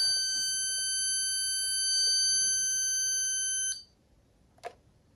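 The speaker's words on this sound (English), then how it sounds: "just keep holding the button until the beeping stops." An Insteon Hub being reset emits a sustained, piercing electronic beep tone lasting several seconds before cutting off abruptly, followed by one short sharp beep; the room is otherwise quiet.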